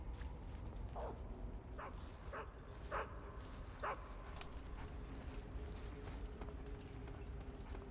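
Dogs bark in the video game Metal Gear Solid 3: Snake Eater, a quick string of short, faint barks in the first few seconds, then only a quiet, steady game ambience.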